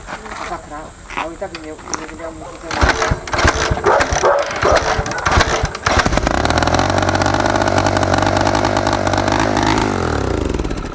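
A neglected old engine being revived runs at high revs after a throttle-cable adjustment, first with rough sputtering and voices, then settling into a steady, loud, high-pitched racing drone for several seconds.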